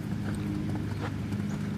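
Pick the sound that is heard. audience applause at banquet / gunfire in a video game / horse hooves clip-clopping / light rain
horse hooves clip-clopping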